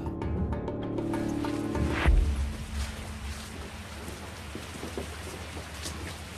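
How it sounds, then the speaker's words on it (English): Steady rain falling in a dramatised scene of the 1529 Siege of Vienna, a dense close patter with a low rumble, following a sustained tonal passage that fades out in the opening seconds. "Then it started to rain."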